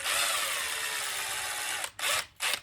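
A power drill pre-drills a pilot hole for a tiny tuner screw in a cigar box guitar, whirring steadily at close range for nearly two seconds before stopping, then two short bursts as the trigger is squeezed again.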